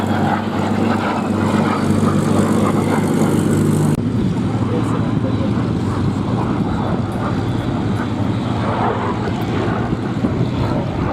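A single-engine de Havilland Vampire jet flies past at an airshow, a loud continuous broadband roar throughout, with a low engine drone that cuts off around the midpoint and leaves a steady rushing jet noise.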